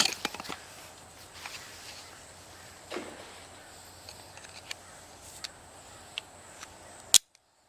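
A palm frond bow drill spindle snaps with one sharp, loud crack near the end, after a run of faint scattered clicks and taps in a quiet outdoor setting, followed by near silence.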